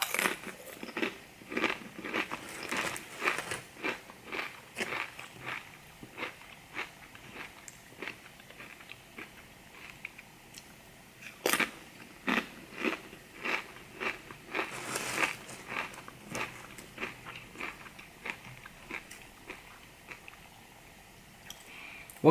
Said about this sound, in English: Kroger brand tortilla chips are very, very good. They're crunchy, they're thick, they work.